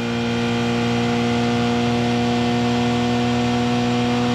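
Onboard a Porsche 919 Hybrid at Le Mans in 2016, flat out on a fast straight above 300 km/h. A loud, sustained high-pitched engine and drivetrain whine holds steady tones under rushing wind noise.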